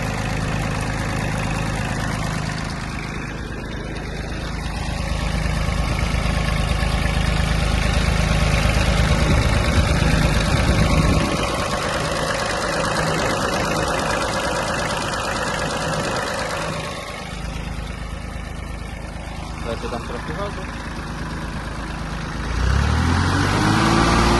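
A small Iseki Sial 193 mini tractor engine idles steadily close by with a low, even rumble, shifting briefly near the end.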